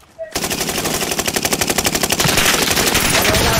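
Rapid automatic gunfire from Call of Duty Warzone on the Caldera map, a loud sustained burst of machine-gun fire with dense repeated shots running the whole length after a brief quiet start.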